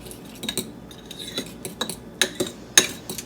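Avocado dip stirred with a dry ranch seasoning packet, a utensil scraping and clinking against a bowl in a run of short, uneven strokes close by, with a couple of sharper clinks near the end.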